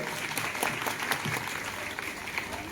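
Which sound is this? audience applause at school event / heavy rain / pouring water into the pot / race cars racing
audience applause at school event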